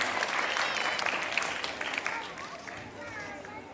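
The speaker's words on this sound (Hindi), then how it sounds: "So clap for our great dancer." An audience at a school Republic Day celebration claps for a children's dance performance; loud, continuous applause mixed with crowd chatter, easing off slightly toward the end.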